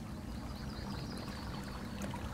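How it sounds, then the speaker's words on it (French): A clear stream flows steadily, a continuous soft burble and trickle of water heard up close with no voices. "Vous vous retrouvez à présent devant un magnifique ruisseau. L'eau est claire."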